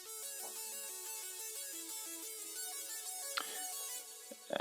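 A synth arpeggio pattern plays in a stepping sequence of bright, tonal notes, clear and moderately loud on its own, with a brief swell near the end.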